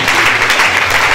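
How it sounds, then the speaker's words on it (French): A church congregation gives loud, dense applause for Jesus during a service, continuous clapping filling the room close by. "Put your hands together beautifully for Jesus."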